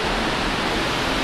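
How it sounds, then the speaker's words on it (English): A waterfall in Shillong, Meghalaya pours in a continuous broadband rush, a dense, steady roar with no other sounds over it. "This is the second falls,"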